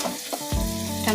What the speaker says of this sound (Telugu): వంకాయ వేసి బాగా ఫ్రై చేసుకోండి.